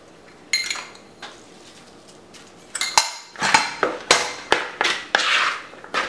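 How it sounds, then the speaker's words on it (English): Vegetables tossed with olive oil in a bowl produce a run of rhythmic clinks and scrapes as a utensil strikes the bowl, sparse at first and then quicker and louder, with no talking. "Get the olive oil and the veggies tossed together"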